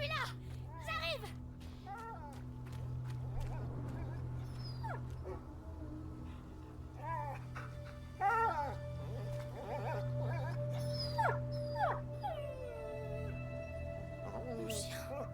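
A dog whimpers and yips in the video game A Plague Tale, giving several short, high whines over a steady low game hum and background ambience, with someone talking over parts of it.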